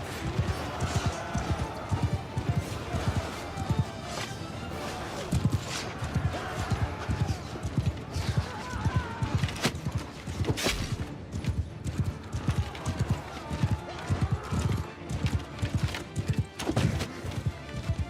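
Horses galloping in a Total War video game battle, a steady run of dense, rapid hoofbeats thundering close and loud throughout, with faint voices mixed underneath.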